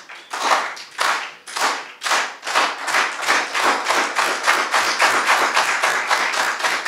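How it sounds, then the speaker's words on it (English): Audience performing a Chicano clap at an educational event, starting with slow, spaced claps that speed up into a rapid, even rhythm, loud and close, with no talking over it. "Can we start off with a Chicano clap?"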